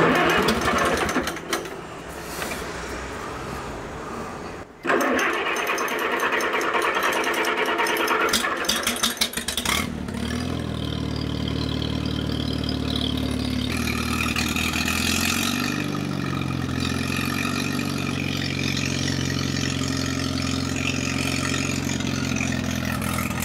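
A wood splitter's small engine cranks with a loud, busy whirring, then catches and settles into a steady, close idle that briefly swells in pitch midway and keeps running evenly.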